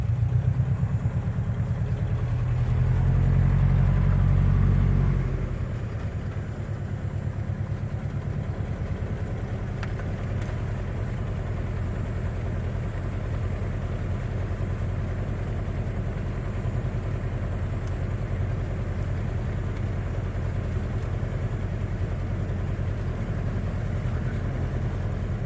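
Cessna 172 aircraft engine after landing, a loud steady droning idle that rumbles a little harder for the first few seconds, then settles to an even continuous hum, no voices.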